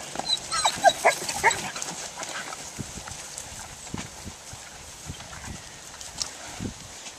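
A few short barks and yelps from Catahoula dogs nearby, sporadic and uneven, with scattered thuds and rustling outdoors among Black Angus cattle.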